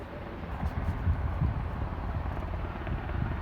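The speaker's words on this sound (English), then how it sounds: "that's definitely, yeah, that's Bristol helicopters" A Bristol Helicopters helicopter flies at Aberdeen airport, a steady low rotor and engine rumble holding at moderate distance throughout, with wind noise and no talk.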